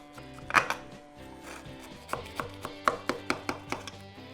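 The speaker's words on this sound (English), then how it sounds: "I'm just gonna go ahead and cut into these" A knife cuts through toasted Korean bulgogi beef short rib cheesesteak sliders fresh from the oven, making a quick run of close crunchy taps and thuds that speed up into a rapid series toward the end.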